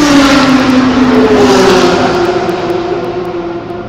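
A BMW race car at Eastern Creek Raceway roars loud and close with a sustained engine note whose pitch slowly falls as it passes, heard alone with no voices.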